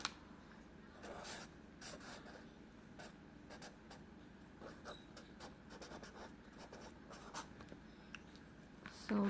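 Pen or marker strokes write Merry Christmas on a snowman drawing, a steady run of faint scratchy scribbles and short taps in a quiet room.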